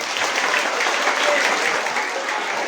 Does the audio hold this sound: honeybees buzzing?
no